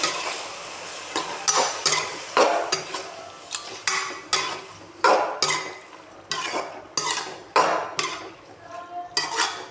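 Squid (bondas) cooking in a pan, with repeated clinks and scrapes of a utensil stirring against the pan over a soft frying hiss, in irregular bursts throughout.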